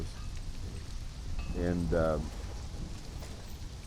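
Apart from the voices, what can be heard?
rain and thunder in the video game Conan Exiles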